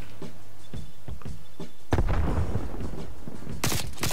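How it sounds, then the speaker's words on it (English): Grenade explosions in a video game, a series of loud thudding blasts after lighter repeated impacts, ending with a sharp burst. "Stop the grenades."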